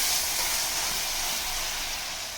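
Tomatoes sauté in a pot for radish sambar, giving a steady, even hiss and soft sizzle heard close up and alone, with no pauses over a couple of seconds.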